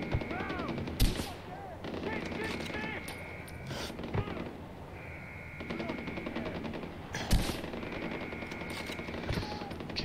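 Gunfire from the video game Far Cry 4, with bursts of automatic weapon fire and sharp single shots recurring through the scene, mixed with game effects and occasional voices.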